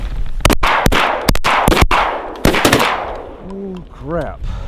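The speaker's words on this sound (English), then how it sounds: "My dumb self had one shell in the gun. My gun kicked me in my face." Shotguns boom during a snow goose hunt, with several loud, close blasts in quick succession, some overlapping, followed by goose honking and calls.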